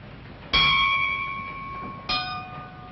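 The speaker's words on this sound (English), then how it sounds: "Make one bell. One bell, sir." A ship's bell on a cartoon sailing ship rings out loud and clear, a bright metallic strike with a long ringing decay, followed by a second, softer strike about one and a half seconds later.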